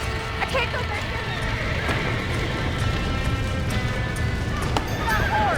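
A horse gallops in the Red Dead Redemption game, a steady drumming of hooves under a continuous dense mix, with a brief whinny near the end and voices in the background.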